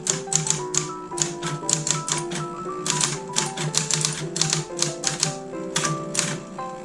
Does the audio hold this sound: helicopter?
no